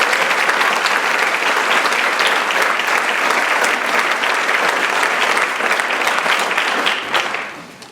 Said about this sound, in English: Nice round of applause for these students.